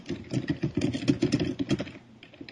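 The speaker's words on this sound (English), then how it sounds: "Typing. Loud typing." Loud typing on a computer keyboard: a dense, rapid run of close clicking keystrokes with an uneven rhythm, heard alone.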